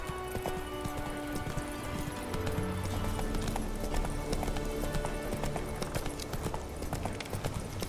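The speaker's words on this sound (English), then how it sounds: "Whoa there, Roach." Hooves of a horse clip-clopping in the video game The Witcher 3: Wild Hunt, a steady rhythmic trot with game music and ambience underneath.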